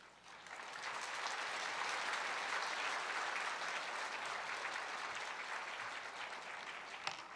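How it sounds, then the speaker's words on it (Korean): A church congregation at a Sunday worship service applauds to welcome a missionary preacher, a steady, even roar of many hands clapping that swells within the first second and holds for several seconds before easing slightly. "나오실 때 큰 박수로 환영하겠습니다"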